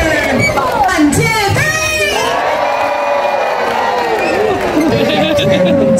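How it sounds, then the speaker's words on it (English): A crowd of families and children at a safari park cheers and whoops for a sea lion, loud and close, with excited shouting and chatter rising and holding throughout. "let's give him a cheer"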